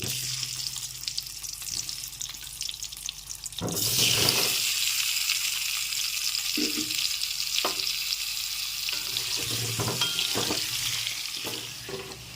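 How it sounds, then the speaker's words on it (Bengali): Boiled, peeled whole potatoes fry in hot oil, giving a steady close sizzle throughout that swells louder partway through, with occasional stirring clatters and utensil knocks. "আলুগুলো দিয়ে ভেজে নিচ্ছি"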